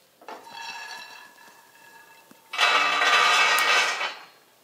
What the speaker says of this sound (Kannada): ಈಗ ಒಂದು ಪಾತ್ರೆಗೆ ಹಾಕೋತೀನಿ ರೀ.